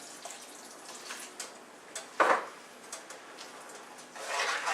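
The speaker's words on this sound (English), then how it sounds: "we add some water in there" Water is poured into a pot of beans in a kitchen, a few faint splashes and trickles with a louder pour near the middle and a longer rushing stream toward the end, close by and without talk.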